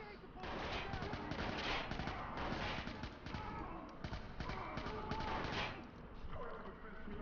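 Assault rifle fire from the video game Watch Dogs crackles in rapid repeated bursts over busy game sound throughout, loud and continuous with short pauses between volleys.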